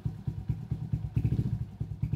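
A motorcycle engine is revved lightly during an electrical test. It gives a faint, steady low thumping in an even rhythm, alone without talk.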